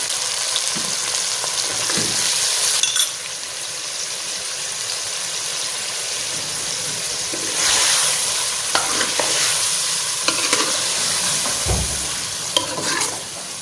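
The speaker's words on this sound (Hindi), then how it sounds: "अभी इसको अच्छी तरह करते हैं फ्राई। एक तो ये प्याज ब्राउन हो जाएगा और गोश्त भी अच्छी तरह पक जाएगा।" Goat meat and onions frying in a pan, a continuous loud sizzle with occasional stirring scrapes and clinks, no voices.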